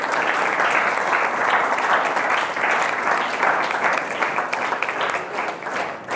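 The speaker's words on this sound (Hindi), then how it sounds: "जोरदार ताली" A room of students claps at a Constitution Day general knowledge quiz competition in a government higher secondary school, sustained loud applause that keeps up evenly for several seconds before tapering slightly at the end.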